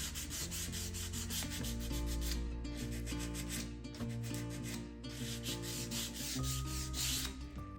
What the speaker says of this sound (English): I'll just keep sanding down both sides to get rid of all of this finish that's loose